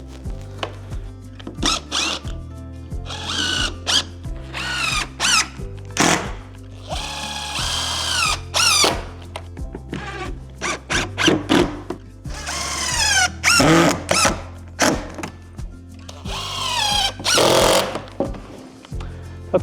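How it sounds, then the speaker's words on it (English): A power drill drives hinge screws into a fiberglass slab shed double door, its motor whining up and down in repeated short bursts with pauses between screws. "Now I can go ahead and install the rest of my hinge screws."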